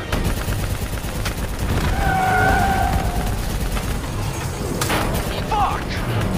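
Dense battlefield gunfire from Call of Duty Black Ops 3 runs steadily throughout, mixed with mechanical noise and a sharp burst near the end, with a voice briefly heard over the din.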